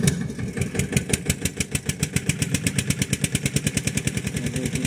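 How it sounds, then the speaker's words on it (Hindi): Eicher tractor loaded with wood, its diesel engine running in a steady, rapid, loud chugging pulse close by, with no voices over it. "देखिए भाई आइशर ट्रैक्टर है,"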